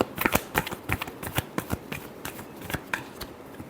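Tarot cards get shuffled by hand in quick, crisp riffles and flicks, a close, irregular run of sharp bursts with no talk.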